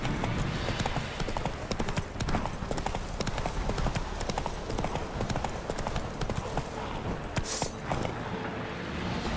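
Steady, quick hoofbeats clop continuously at close range, a horse moving at a brisk trot in the video game The Witcher 3: Wild Hunt, with faint background ambience.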